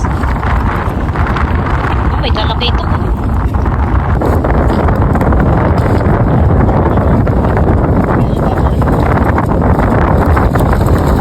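Strong wind buffets the microphone in a constant, heavy roar, with a voice speaking briefly under the rush.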